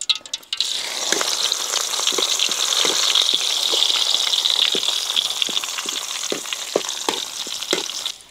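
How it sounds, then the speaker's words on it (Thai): Holy basil leaves crackle and sizzle steadily as they deep-fry in hot oil for crispy basil, a dense continuous hiss with scattered sharp pops, close and loud throughout. "เฮามาทอดใบกระเพรากันครับผม"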